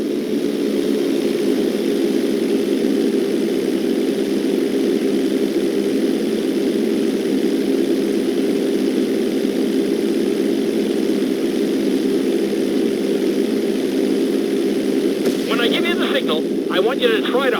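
A propeller airplane in GTA 5's flight school runs its engine at a steady, loud drone on the runway. The hum holds even throughout, with a brief higher-pitched flutter near the end.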